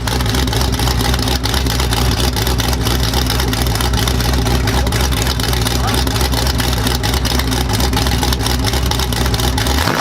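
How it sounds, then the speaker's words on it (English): Camaro engines idle and rumble at a drag race, a dense, loud, continuous mechanical drone with a steady low throb that fills the whole stretch without a break. "Gentlemen, start your engines"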